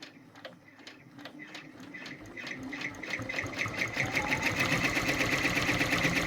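A Brother PR1055X embroidery machine stitches a label onto a nightgown collar, its needle ticking in a fast, even rhythm that speeds up and grows louder, close by with a steady mechanical whir underneath.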